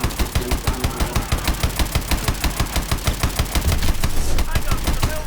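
Rapid rhythmic firing from a mech's main gun in Call of Duty Advanced Warfare, evenly spaced heavy shots, loud and close, rising into denser noise near the end.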